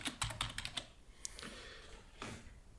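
Quick typing on a computer keyboard, a short close burst of crisp clicking keystrokes followed by a few sparser taps, quiet and with no talking.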